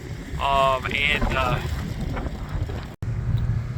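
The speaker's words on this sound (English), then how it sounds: "it's awfully windy out here" Wind buffets the microphone outdoors at a tailgate event with a constant low rumble, while a person speaks briefly near the start; the gusting continues after a short dropout.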